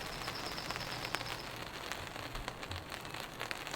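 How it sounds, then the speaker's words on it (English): Rain begins falling on a solo tarp camp during a storm, a steady soft patter of drops on the surface with occasional sharper ticks, continuous and fairly quiet, with no voices. "it's beginning to rain"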